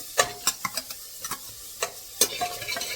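Onions and tomatoes stirred in a pan with no oil, giving a run of dry scraping and clacking strokes at an uneven rhythm, close and fairly quiet with no talk.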